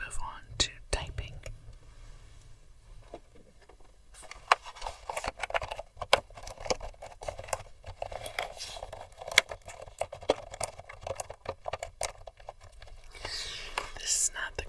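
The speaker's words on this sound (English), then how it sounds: "This is not the greatest keyboard for typing noises." Soft, uneven tapping from a non-mechanical computer keyboard comes in quick bursts and scattered clicks, close and quiet, with pauses between runs of keystrokes.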